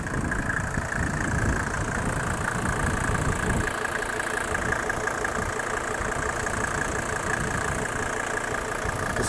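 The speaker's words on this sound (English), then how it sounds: "A super smooth running engine with a lot of torque, a lot of horsepower." A 1986 Mercedes G-Class with a 2.5L OM605 multi-valve turbo diesel runs steadily, a constant close engine drone with a rough low rumble that eases slightly partway through.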